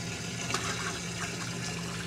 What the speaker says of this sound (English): I'm using a recirculating pump just to move the water around and mix it